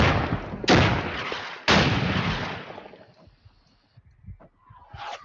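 Artillery fire in the video game Combat Leader lands as two heavy, booming blasts in quick succession, each followed by a long rumbling decay that fades toward near silence.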